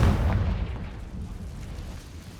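A Confringo spell explosion in Hogwarts Legacy, heard as a deep rolling boom that rumbles and slowly fades over a couple of seconds.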